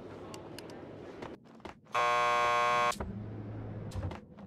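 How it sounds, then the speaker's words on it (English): A harsh electronic door buzzer at a police station lockup in Max Payne 2 sounds once for about a second, loud and rasping, between quieter background game sounds. "Just press the buzzer by the door."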